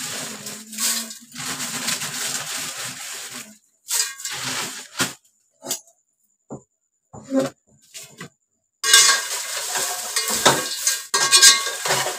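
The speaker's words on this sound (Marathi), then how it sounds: "हे सगळे मिरच्या भाजून घेणार आहे" Chillies being dry-roasted in a pan for homemade Malvani masala, with bursts of sizzling and rustling stirring separated by quiet gaps, plus scattered clinks and scrapes of a utensil against the pan.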